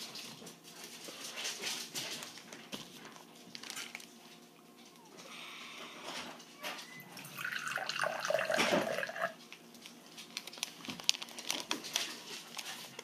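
Gatorade is poured into a container as a soft, hissing liquid stream that swells in the middle and trails off, with light handling clatter around it.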